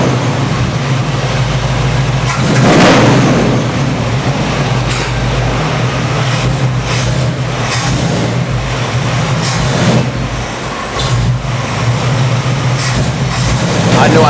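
A Cadillac Coupe DeVille or GMC Caballero engine, hot-wired and running while its fuel mixture is adjusted, holds a loud, steady low rumble with slight surges of throttle throughout, close and continuous.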